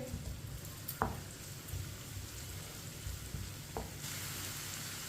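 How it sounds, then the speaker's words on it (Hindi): Chopped onion frying gently in oil in a pan for chana dal, a soft, faint, even sizzle with a couple of light clinks, no talk. "प्याज को हल्का सा ब्राउन कर लेंगे। इसे जलने नहीं देना, हल्का सा ब्राउन करना है।"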